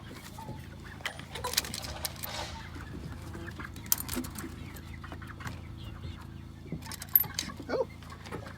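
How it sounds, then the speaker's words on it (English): Chickens clucking softly near an off-grid cabin build in Alaska, faint scattered clucks and small knocks over a quiet background. "Oh, chickens are already curious."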